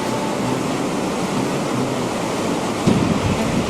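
A glacial river in the Himalayas rushes in a loud, continuous broadband roar, with a brief thump near the end and no voices.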